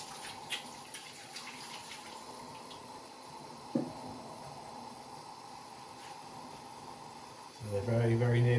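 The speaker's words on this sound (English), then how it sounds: "I'm going to quickly wash my hands again." Hands are washed under a running kitchen tap with a steady, soft hiss of water and a brief splash partway through. A louder tonal sound joins near the end.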